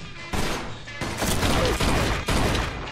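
Loud gunshots in the video game Mafia 2, three or four heavy booming blasts spaced across a few seconds, each followed by a dense echoing tail, with no talking.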